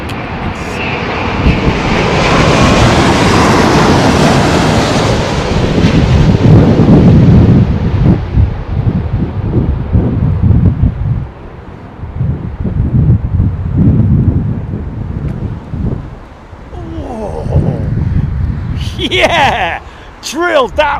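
A Virgin Atlantic airliner lands at Heathrow in Storm Nelson's gale-force winds, its engines roaring loud and long through heavy wind buffeting on the microphone, fading out as spectators shout and exclaim near the end.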